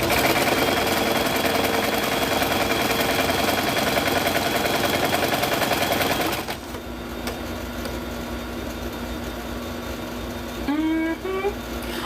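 A sewing machine stitching at full speed, a dense rapid mechanical whir that runs steadily for about six seconds, then stops abruptly, leaving a quieter room with a brief whine near the end.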